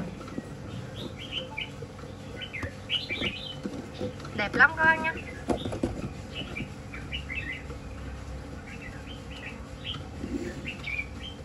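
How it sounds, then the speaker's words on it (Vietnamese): A male Chinese hwamei songbird sings in repeated bright whistled phrases over steady background noise, while someone talks over part of the song. "em chim họa mi trống thứ 3 trên video này"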